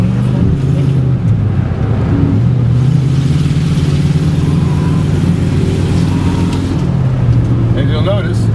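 A Cadillac engine drones steadily from inside the car as it accelerates uphill to overtake, its pitch rising and then settling, with a short break near the end.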